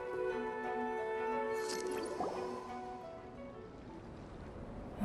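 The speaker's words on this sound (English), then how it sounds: "Oh, seems that the water level has suddenly decreased." Water drains away as the level drops in Genshin Impact, a quiet gurgling trickle with dripping that tapers off.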